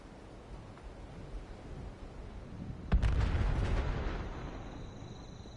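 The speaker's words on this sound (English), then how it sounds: "I hear a lot of shooting in the background." Distant gunfire in Fallout 76 shows up as a single heavy boom partway through, rumbling under a steady background hiss and fading slowly, with no one talking.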